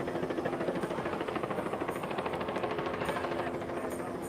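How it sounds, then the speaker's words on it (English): A helicopter flies overhead at a protest outside a detention center, its steady rapid rotor thumping filling the air at moderate loudness. "I'm sure you guys can hear the chopper."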